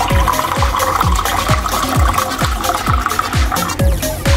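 Drinking water pours from an Ecosphere ultraviolet disinfection water filter, close by, in a continuous stream broken by regular glugging pulses about twice a second.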